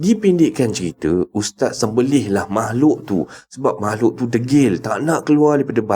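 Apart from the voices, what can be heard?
No everyday noises stand out.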